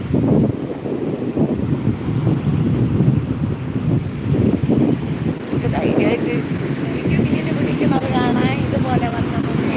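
At Vettukad beach in Kerala, ocean waves roll in with a constant, loud rush of surf and heavy wind buffeting the microphone, while someone talks over the roar.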